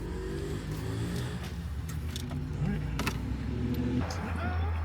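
An Infiniti Q50's engine revs in a choked, strained way, close and steady throughout, with voices talking over it.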